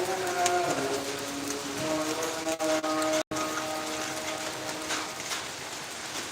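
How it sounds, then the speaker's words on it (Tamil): Steady rain falling, a dense continuous patter with a faint tonal hum in the background, no voices. "ஆனால் மழை பெய்யுது"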